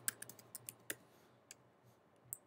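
Keys clatter on a computer keyboard as a terminal command is typed, a quick burst of close, light clicks followed by a few sparser taps, quiet and with no talk.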